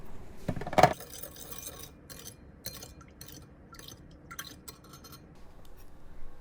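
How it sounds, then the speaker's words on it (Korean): A spoon stirring vinegar and sugar in a bowl: a sharp clink against the rim, then a series of light tapping and scraping clinks as the mixture is stirred, close and fairly quiet. "식초 2스푼, 설탕 2스푼을 넣고 잘 저어주세요"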